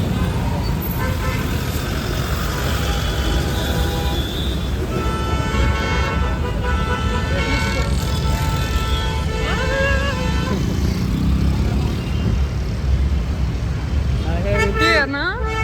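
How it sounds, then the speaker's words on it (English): Heavy road traffic outside Indian government offices brings a constant loud engine roar with car and motorcycle horns honking repeatedly, near and far, while people talk nearby. "So much traffic everywhere."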